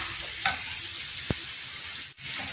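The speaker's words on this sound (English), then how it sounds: "We'll just wait for a few minutes till the onions and garlic are ready." Onions and garlic frying in a pan with a constant loud hiss of sizzling oil, broken by one brief utensil knock and a momentary dip in the sound; no voices.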